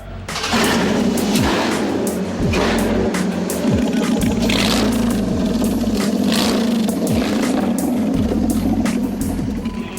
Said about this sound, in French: J'ai fini l'échappement. Vous voulez l'entendre?